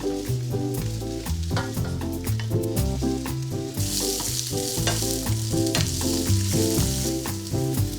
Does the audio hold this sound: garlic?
yes